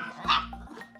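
A single loud dog bark stands out at close range, with brief indoor room noise before and after it.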